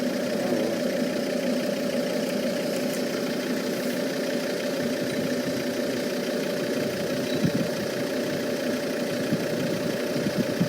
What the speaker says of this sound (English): It's bad for you to sit in a car with the engine running